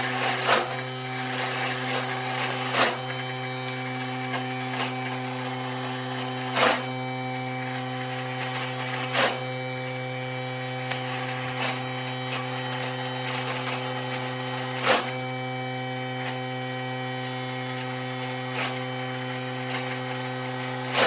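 A Thermomix blends Thai green curry paste with peanut oil at speed 9, giving a steady loud motor whir with a strong low hum and sharp chopping knocks that recur every few seconds, with no talk over it.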